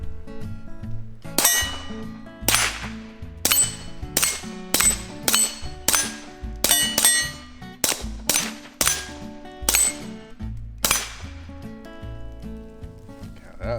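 Sharp, loud pistol shots fired from a gun fitted with a Nic Taylor +1 magazine extension, about fifteen reports in an uneven rhythm with short ringing tails and brief pauses between shots.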